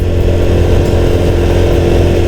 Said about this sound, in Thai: ฟังจากเสียงเครื่องยนต์ยังไม่ได้ หอนอะไรมากมายครับ